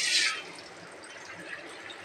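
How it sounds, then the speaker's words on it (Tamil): Water is poured into a kadai pan, a short splashing gush at the start that fades quickly into a faint, soft trickle and hiss, quiet and alone. "ஒரு கடாயில் கொஞ்சம் போல் நம்ம தண்ணி விட்டுக்கலாம்."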